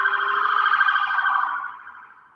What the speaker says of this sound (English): That's an ambulance you hear going by.